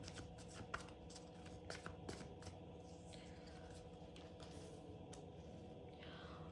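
Tarot cards shuffled and drawn by hand, a steady run of soft riffling and sliding card sounds with small snaps, faint and close, with no talking.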